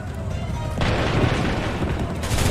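A heavy rolling volley of cannon fire in Assassin's Creed III Remastered, booming continuously and loud across the stretch after a quieter opening.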